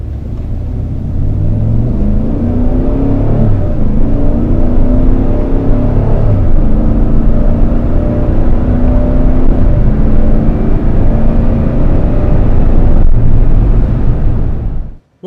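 A 2015 Cadillac Escalade ESV pulls away and accelerates on the road, its engine giving a subtle burble through a loud, steady low rumble with gear-change dips and rising whine, heard from inside without talk.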